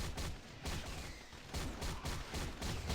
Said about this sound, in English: Oh, the explosion is from this.